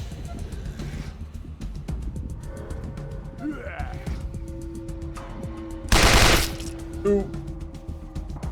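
Assault rifle bursts in the Wasteland 2 video game ring out amid other game effects, with a loud sharp burst near the middle and a smaller one after, while a player talks over the action.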